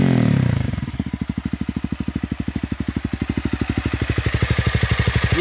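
A Honda CRF250L dirt bike with an FMF exhaust and 13-tooth front, 45-tooth rear sprockets settles into a steady, close thumping idle after a brief rev, its single-cylinder pulses evenly spaced and loud throughout.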